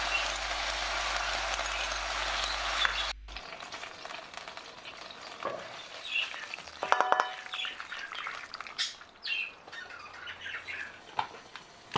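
Vegetables sizzling in a hot pan for ramen topping, with occasional stirring clatter and scraping, close by, the crackle rising and falling throughout.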